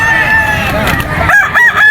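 Roosters crow loudly and close by at a pet market in Bocaue, one call following another, with some clucking and background chatter mixed in.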